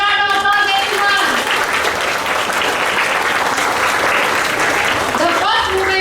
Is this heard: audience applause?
yes